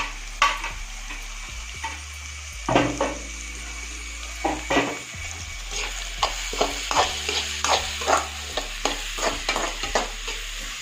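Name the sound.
capsicum and green chillies frying in a pan for egg manchurian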